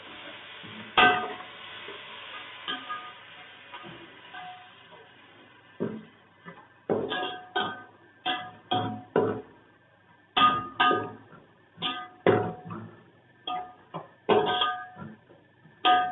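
Garlic paste stirred in a cooking pot for chicken biryani, a series of sharp metallic scrapes and clinks of a spoon against the pot, coming in irregular bursts with quiet gaps between.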